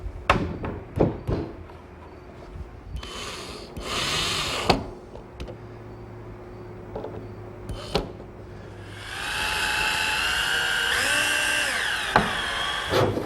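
A power drill drives screws into wooden boat pieces, with several short bursts and knocks early on, then a longer sustained whirring run near the end, close and fairly loud with shop rustling between.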